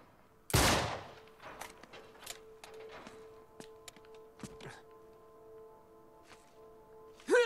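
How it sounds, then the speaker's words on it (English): A gunshot is fired at a lock in Uncharted 3: one sharp, loud, close crack near the start, followed by faint clicks and small knocks over a low steady hum, and another short hit at the end. "I'll shoot the lock"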